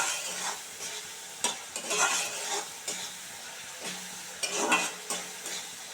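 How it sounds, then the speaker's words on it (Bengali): Vegetables with prawns and spinach fry in oil in a pan, a steady sizzle broken by repeated bursts of stirring and scraping, close and fairly loud, with no talk. "তেল ছেড়ে দিলে তারপরে আমি সবজিগুলো দিয়ে দেবো"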